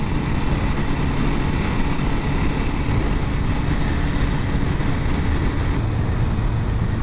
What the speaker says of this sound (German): der Motor läuft immer noch geschmeidig eigentlich